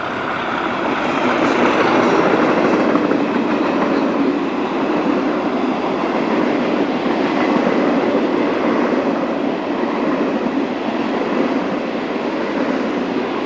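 Class 56 locomotive 56074 hauling the Kent Coastman rail tour from Plymouth to Ramsgate, a steady, loud diesel roar with rolling rail noise that holds throughout without pause.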